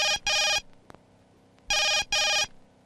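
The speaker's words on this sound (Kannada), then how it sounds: "ಲೋಕನಾಥ್ ಸಾಹೇಬ್ರೆ ಫೋನ್ ಮಾಡಿದ್ದಾರೆ" A telephone rings in two double bursts, a pair of trilling rings, a pause, then another pair, clear and close in a quiet indoor room.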